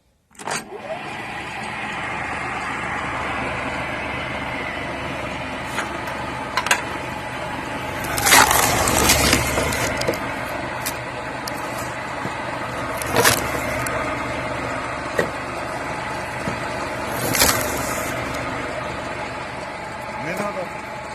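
An electric motor hums steadily on a homemade cone log splitter while wood cracks and splits loudly in three sharp bursts several seconds apart.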